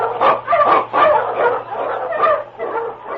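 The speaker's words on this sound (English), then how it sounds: "The Wonder Dog King, swiftest and strongest of Eskimo lead dogs, blazes the trail through storm and snow for Sergeant Preston" A sturdy Eskimo sled lead dog barks in a rapid run of loud, close woofs and yips, five or six rhythmic bursts in quick succession with short gaps between them.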